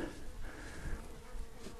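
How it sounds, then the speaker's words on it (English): Flies or bees buzzing around on a windy hilltop, a steady low insect drone close by that runs throughout the short stretch with slight swells in loudness and no voices. "apart from the flies or bees, whatever they are"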